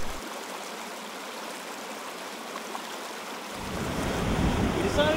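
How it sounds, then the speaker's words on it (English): Heavy wind on the Mississippi River while paddling, a steady rush and buffeting against the microphone mixed with moving water, swelling louder near the end. "The winds are pretty heavy today."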